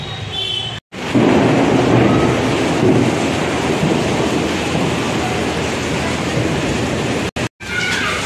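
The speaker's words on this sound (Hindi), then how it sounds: "भाई बहुत तेज बारिश स्टार्ट हो चुकी है" Heavy monsoon rain pours down in a loud, dense, continuous roar close by, with brief dropouts at the start and near the end.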